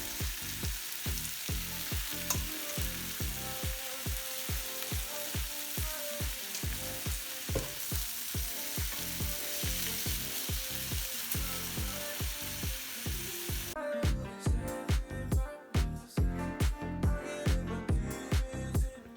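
Chicken satay skewers brushed with marinade sizzle and crackle steadily on a hot pan or grill, a continuous close frying hiss broken by regular tapping and scraping as they are turned, with no talk.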